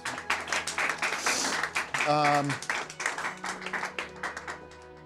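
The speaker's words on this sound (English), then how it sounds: "let's give a big round of applause" Audience applause at a comedy stage show, fairly soft and uneven clapping with music and some voices underneath.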